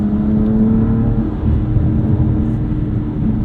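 A 2016 BMW M3 sedan accelerating on a winding road, its engine a steady, loud drone heard from inside the car with a strong low rumble and no talking.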